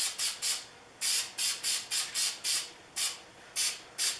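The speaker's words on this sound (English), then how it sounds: "I use Minwax Clear Satin spray, and the first coat's going to be a mist coat." Short hissing bursts of Minwax Clear Satin lacquer from an aerosol can, sprayed as a light mist coat over a decal on a tote, about a dozen quick puffs in an uneven rhythm, close and alone.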